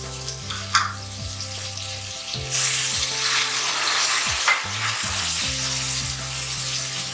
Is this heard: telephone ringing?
no